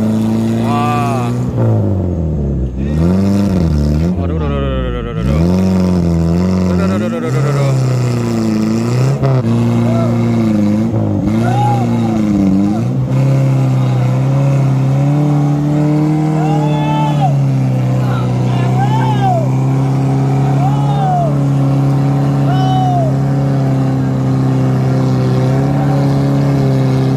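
A vehicle engine in Indonesia labours and revs under load, its pitch rising and falling repeatedly before settling into a steady loud drone, with people talking over it now and then.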